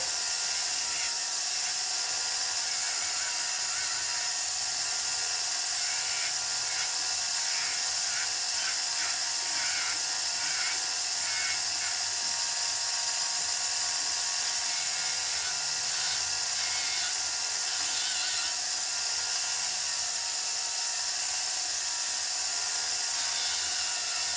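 A rotary tool trims a carved signet ring, giving a steady high-pitched whine with faint intermittent grinding chatter, close and continuous throughout with no talking.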